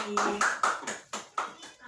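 A primary-school class clapping hands together in a maths lesson, several bursts of clapping in an uneven rhythm, close and fairly loud, with children's voices mixed in.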